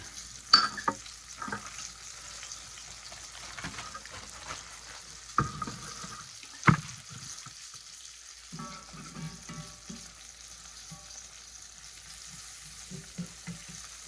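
A small amount of sliced onion frying and browning in a pan for gravy, a faint steady sizzle with a few sharp clanks and soft stirring scrapes, close by and without voices.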